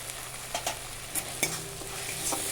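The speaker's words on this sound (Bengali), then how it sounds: "খুব ভালো করে নেড়ে নেবো" Fried prawns with meat masala being stirred in hot oil, a close sizzle under a few distinct spatula scrapes and knocks against the pan, alone without speech.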